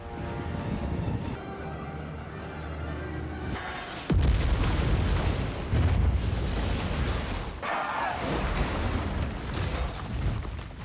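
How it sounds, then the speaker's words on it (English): A massive explosion in a Marvel film hits with deep booming bursts, loud and heavy, mixed with dramatic score and rumbling debris across several seconds. "His body plummets back down, triggering a surprisingly massive explosion."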